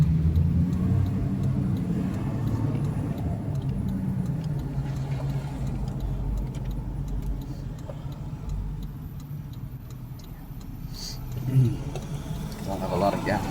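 Low steady rumble of a car engine and road noise while driving, constant and close throughout, with someone talking over it and a faint ticking now and then.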